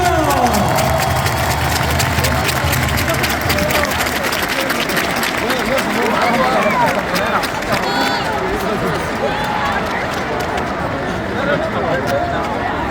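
Stadium crowd at a season-opening football match applauding, a broad, steady wash of clapping and cheering that fills the whole stretch, with an announcer's voice over a loudspeaker in places.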